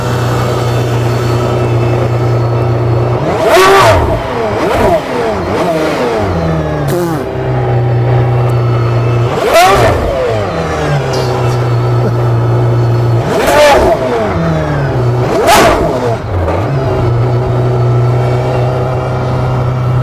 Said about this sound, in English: we do a little bit of a decibel check, see how loud this car is